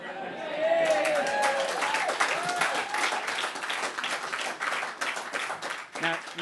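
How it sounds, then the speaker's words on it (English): A crowd at a Conservative leadership campaign launch claps steadily for several seconds, dense and close. A voice speaks over the start of the clapping. "Because I've just given you a clap."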